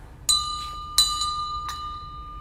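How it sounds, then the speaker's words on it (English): Christmas bells are rung live on stage as a theatre sound effect, giving three bright, ringing metallic chimes spaced about a second apart, each ringing on and fading, with a quiet hush behind. "or the Christmas bells."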